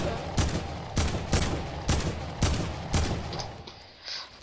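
Gunshots in a video game map, six loud, evenly spaced shots about half a second apart, close and punchy, followed by a fainter trailing tone.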